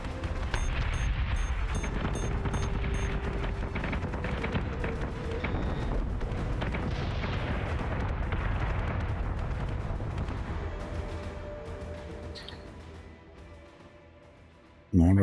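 Missile impacts against a capital ship in the space strategy game Battlestar Galactica Deadlock, a steady rumbling barrage of muffled blasts that slowly fades, with a player talking over it.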